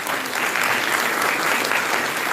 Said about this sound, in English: a very good applause for you guys